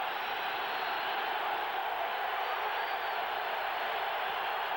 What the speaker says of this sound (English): Elway fighting the noise of the crowd